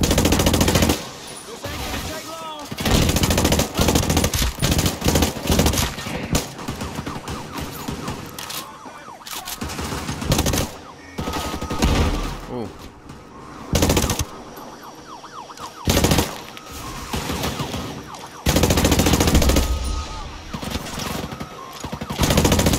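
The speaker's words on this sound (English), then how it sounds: "Oh, look at the way this gun sounds" Rapid bursts of automatic fire from the SC 40K rifle in the video game Ghost Recon Breakpoint, loud and close, arriving in repeated volleys separated by short pauses over roughly twenty seconds.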